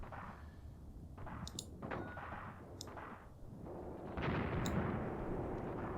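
Booms of 25-pounder field guns in the Tunisia 1943 tank battle game, several heavy reports over a continuous rumbling battlefield din, louder toward the end.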